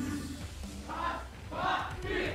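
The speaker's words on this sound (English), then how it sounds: "We're gonna give you two more chances each to show who's got the loudest cheer." A crowd at an esports event, the M3 World Championship in Singapore, shouts and cheers in loud surging waves. A voice over the noise is partly buried by the cheering.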